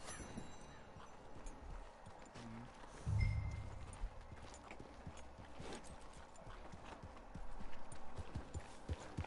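Horse hooves clip-clop in Red Dead Online, a steady rhythmic trot of sharp, fairly close strikes continuing throughout, with a brief low rumble partway and a quiet game-world backdrop.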